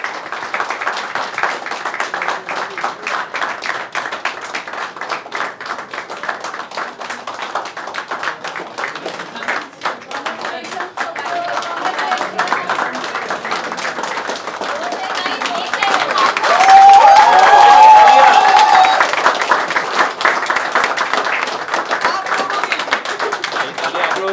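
Audience clapping at a toppers' meet for IBPS PO and Clerk exam achievers, welcoming teachers and faculty; steady dense applause throughout, swelling louder near the end, with a voice speaking over it.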